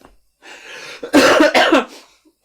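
A short burst of harsh coughing, two or three chesty coughs close to the microphone, preceded by a breathy wheeze.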